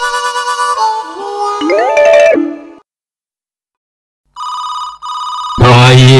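Telephone ringing indoors in a Telugu comedy serial, loud electronic melodic tones that stop, leave a pause, and then return as repeated bursts, followed by a louder jingle.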